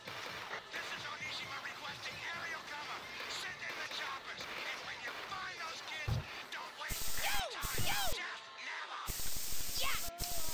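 Hissing bursts of spray paint as a character is tagged in the video game Jet Set Radio, mixed with game music and effects while a voice talks over it.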